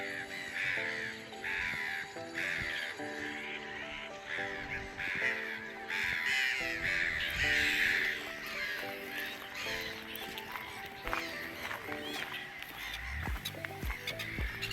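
Crows cawing at the Maasi Order castle ruins on Saaremaa, many harsh repeated calls overlapping in a dense, loud chorus that continues throughout, with occasional louder nearby caws.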